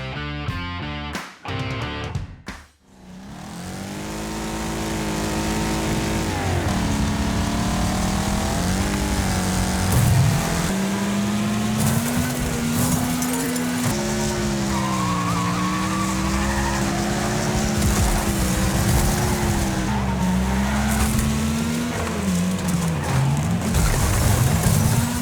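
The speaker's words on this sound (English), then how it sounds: "Choking engines, screeching tyres, and the crackle of a chassis set ablaze, all synthesised to form a relentless assault on the senses." Race cars in Wreckfest, engines roaring and revving with long tyre screeches and skids throughout, loud and sustained after a few brief choppy bursts at the start.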